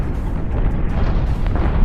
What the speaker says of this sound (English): That was a pretty interesting explosion.